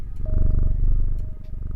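A cat purrs steadily and close while being petted in the video game Strange Antiquities. The low rumble holds throughout, with a faint thin tone laid over it.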